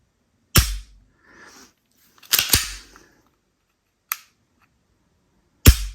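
Four sharp dry-fire trigger clicks from a Taurus G3c .40 S&W pistol, spaced irregularly over a few seconds, close and crisp with faint handling rustle between them.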